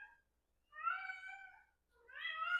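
A house cat meows twice indoors, two drawn-out tonal calls separated by a short pause, clear and fairly close with quiet surroundings and no speech.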